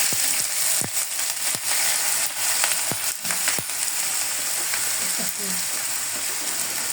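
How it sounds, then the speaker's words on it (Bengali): Potato bhaji frying with onion and sliced green chilies in hot oil, a steady close sizzle broken by sharp scraping stirs and crackles, with no talking. "এখন আমি একসঙ্গে পেঁয়াজটাও দিয়ে দিব এবং দিয়ে দেবো কাঁচামরিচ ফালি দিয়ে ভাজিটা করে নেব"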